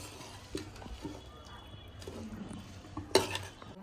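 Aloo mungre vegetable curry stirred in a pan, a utensil scraping and clinking against the metal in irregular strokes with one sharp clink near the end, close and fairly quiet.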